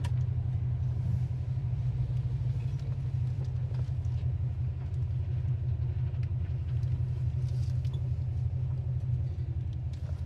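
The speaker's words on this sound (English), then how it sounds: "Idle's nice." A 1969 Chevelle engine idles with a steady, even low rumble, close and continuous throughout without any revving.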